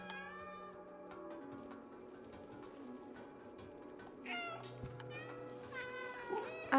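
Repeated cat meows from the video game Stray, several plaintive calls near the end over a quiet musical background with no talk.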